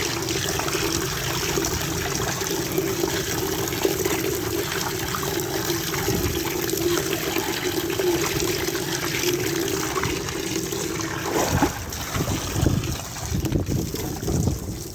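Water splashes and trickles steadily while a pigeon enclosure is hosed down and washed, a continuous wet hiss throughout, with heavier splashing bursts near the end.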